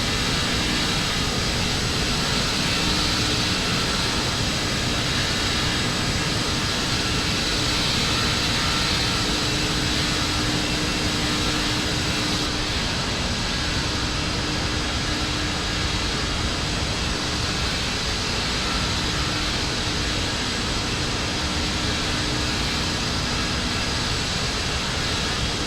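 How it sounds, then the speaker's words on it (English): The iniBuilds L-1011 jet engines roar in a flight simulator during cruise, a loud, steady broadband rush with a faint tonal whine, unbroken for the whole stretch without talk. "Oh, listen to those engines."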